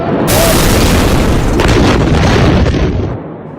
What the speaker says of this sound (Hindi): जहां एक बड़ा विस्फोट होता है